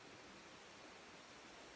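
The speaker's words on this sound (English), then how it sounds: "You can hear the river way over there" A distant river flows as a soft, even wash of broadband noise, faint and continuous, with no voices or other sounds on top.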